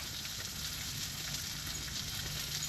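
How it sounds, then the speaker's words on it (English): Steak frying in a pan at dinnertime on a fishing trip at Clear Lake, Iowa, giving a steady, close hiss and crackle of sizzling fat that holds evenly throughout, with no talking. "I'm going to get to cooking my steak"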